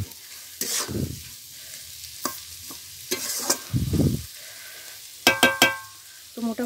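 Vegetables fry in a pan, a low sizzle underneath spatula scrapes and clinks against the pan, with a few sharp metallic taps near the end, close and moderately loud.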